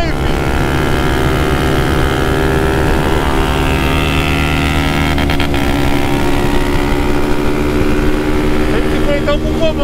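Honda Fan 125 motorcycle engine revving and accelerating steadily with a loud, continuous drone throughout, recorded up close on a ride, with voices in the background.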